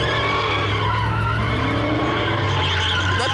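A Mustang GT drifting, its tires screeching in a loud, sustained skid over a steady engine roar, close and continuous throughout.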